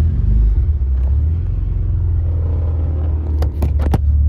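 A lowered Acura TSX with extra camber in the rear tries to drive out while its tires rub, giving a steady low engine rumble and strained rolling noise, then a few sharp scraping clicks near the end.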